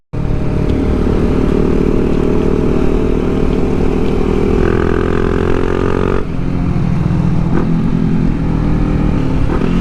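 A Kawasaki Ninja 400 motorcycle ridden through corners, its engine droning loudly and steadily close by, pitch rising and falling with throttle and gear changes, with wind rush throughout.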